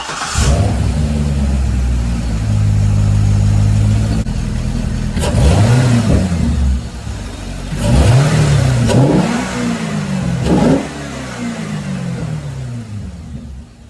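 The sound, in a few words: car engine startup with SLP Blackwing air intake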